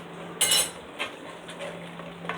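A metal spoon clinks and scrapes in a pot while spicy mumbar stuffing is mixed, with a sharp clatter and several lighter taps over a low background hum.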